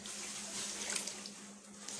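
A tap runs steadily while a dyed shirt is rinsed, a soft continuous splashing hiss with a low hum beneath, fairly quiet and close.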